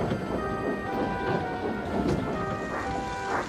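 A steam engine pulls a train along rails in dark, gloomy weather, heard as a continuous low rumble with rolling wheel noise and faint hissing at moderate level, without speech.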